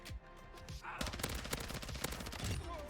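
Sustained gunfire from a long-range gunfight in Call of Duty MW2, with a submachine gun firing rapid, dense bursts, loud and continuous after a brief quieter opening, with distant shots mixed in.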